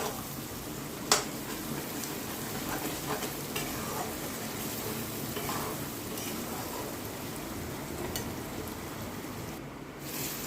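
Chicken pieces stirred with ground black pepper and spices in a hot pan for a Kashmiri chicken masala, a steady close sizzle broken by occasional scrapes and knocks of the spoon, with no talking.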